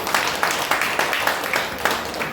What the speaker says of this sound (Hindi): जोरदार तालियां उन सबके लिए बजाएंगे